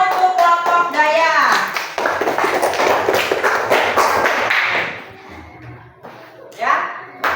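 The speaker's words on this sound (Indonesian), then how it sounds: "Tepuk tangan untuk kelompok Daya." A class of children claps for one of the student groups, rapid overlapping hand claps and taps at close range that fade toward the end, mixed with children's voices.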